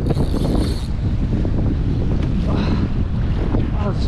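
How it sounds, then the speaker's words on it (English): Strong wind at sea batters the microphone during kayak fishing off Hawaii, a continuous loud roar of gusts with water splashing beneath, all close and unbroken. "Oh, this wind is crazy."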